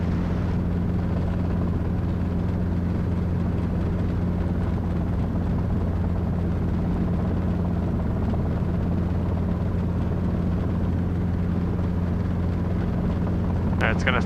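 A Robinson R22 helicopter in flight during a steep max-performance approach, its rotor and engine making a steady loud drone close by, with a brief beep near the end. The crew talk over the noise throughout.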